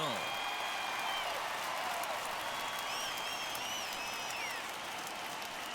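A baseball crowd in Minneapolis at a World Series game between the Padres and Twins, a broad roar of applause and cheering that rises steadily and holds, with whistles cutting through above it.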